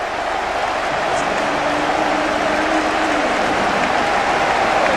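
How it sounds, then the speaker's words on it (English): At a football match, a large stadium crowd at Inter Milan gives a departing player a send-off, broad continuous applause and cheering that holds at a steady level throughout, with a faint low commentator voice beneath. "The applause he returns."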